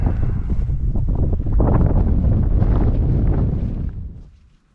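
Gusty wind on Kinder Scout moorland at sunrise in March, buffeting the microphone with a loud, steady roar that eases off and fades near the end.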